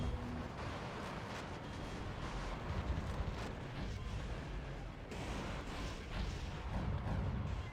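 Cluster bombs exploding in a boss fight in Metal Wolf Chaos XD, a continuous barrage of artillery-like booms and crackling blasts, steady and fairly quiet throughout with no voices.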